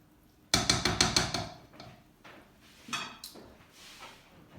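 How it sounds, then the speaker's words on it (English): Risotto milanese gets a final stir in a pan before plating, a burst of loud, rapid clattering scrapes up close followed by a few softer, scattered knocks and scrapes. "I like to give it one final stir, just to make sure that everything's nice and combined"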